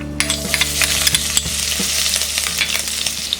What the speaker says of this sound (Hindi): तेल गरम हो गया है। अब हम इसमें डालेंगे ये ग्रीन चिलीज